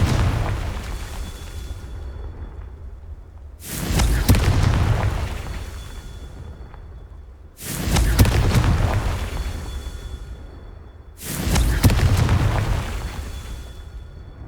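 Three heavy spell explosions from Confringo in Hogwarts Legacy burst out at roughly four-second intervals, each a loud broadband boom with a rumbling low tail that fades before the next blast.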